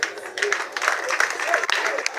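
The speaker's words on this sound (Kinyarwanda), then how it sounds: "n'amashyi menshi" Audience at a district awards ceremony for development partners in Kirehe claps, a dense burst of applause from nearby with voices mixed in throughout.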